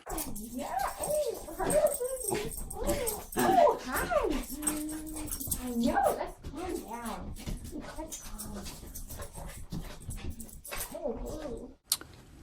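Several dogs whimper, whine and yip excitedly while greeting a woman they had not seen in weeks, a close, continuous run of high whines and short yips mixed with people talking, then a sharp click near the end.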